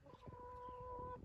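A chicken on a porch makes soft, short clucks, faint and close, with a steady tonal hum running beneath.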